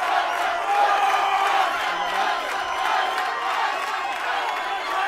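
Strongman competition crowd at the World's Strongest Man chanting an athlete's name and cheering, a dense, steady roar of many voices that holds loud and continuous throughout.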